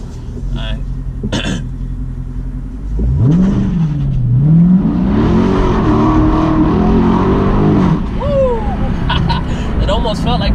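A 2017 Dodge Charger Daytona accelerating hard from a launch, the engine swelling into a loud rising roar under a voice inside the car.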